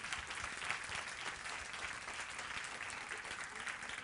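An audience at an autism talk claps steadily throughout, a dense, even round of applause heard from a moderate distance.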